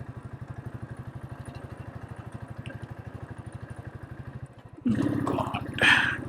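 A motorcycle labors up a steep mountain road on the way to Govindghat, its engine struggling on the climb with a steady, rapid thumping beat. After a few seconds a louder rushing, clattering burst takes over.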